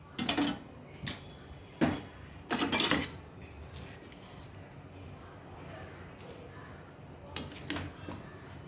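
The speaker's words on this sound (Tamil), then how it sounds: "நம்ம ரைஸ் ஆட் பண்ணிக்கலாம்." Basmati rice tipped into a pot of boiling water for plain biryani, a few short clattering rattles and scrapes of grains and utensil against metal, close and intermittent.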